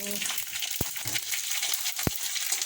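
Mustard seeds and garlic cloves fry in a pan with a soft, steady crackling sizzle, broken by two sharp pops about a second apart.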